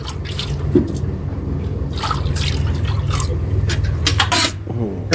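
Milk streams into a bucket as a buffalo is milked by hand, a steady wet dribbling and spraying that runs close and continuous under farm background noise.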